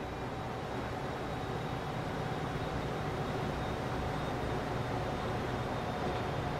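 A train rolls along in the Transport Fever rail simulation game, a steady, unbroken mechanical rumble and hiss that holds at an even level throughout with no voices.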